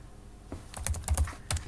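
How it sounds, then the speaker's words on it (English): A short burst of typing on a computer keyboard, with several crisp key clicks close up after a brief quiet start, alone without speech. "so I'll just type that in here again"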